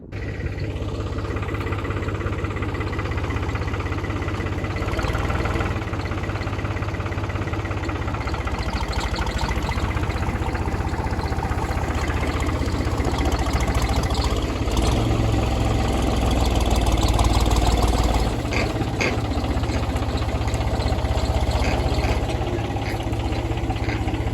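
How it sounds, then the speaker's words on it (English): A tractor engine idles steadily nearby, a continuous low rumble with slight vibration and occasional small rises in intensity. "driving the tractor and getting the log"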